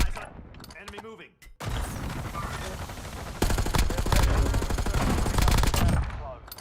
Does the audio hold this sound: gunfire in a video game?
yes